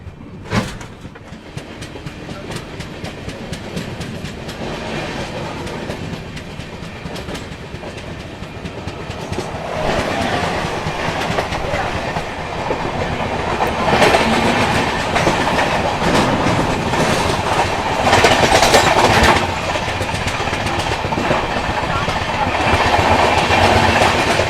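Sealdah Rajdhani Express running out of Sealdah alongside a Kolkata suburban local train, heard as a continuous loud rolling rumble with steady clickety-clack that swells midway and stays dense throughout, without talk.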